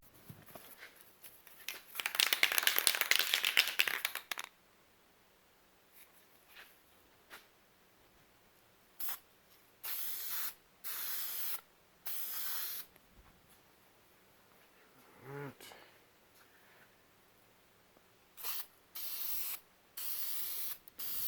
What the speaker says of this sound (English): I'm going to get ready to lay some primer down